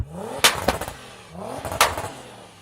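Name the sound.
3,000hp SUV engine revving with non-stock exhaust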